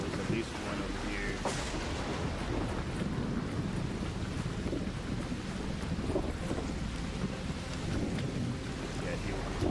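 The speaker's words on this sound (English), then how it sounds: "an electromagnetic storm is currently raging over topside. Beware the lightning strikes if you're outdoors" Thunder and heavy rain from an electromagnetic storm in a video game, a constant loud roar of rain and wind with rumbling thunder and a sharp crack near the start.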